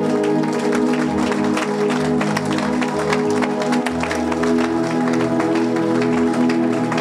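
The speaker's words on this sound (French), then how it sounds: "Tout le monde acclame le nom du Seigneur" A church congregation applauds continuously and loudly, with dense clapping and crowd noise, while a steady musical accompaniment plays underneath throughout.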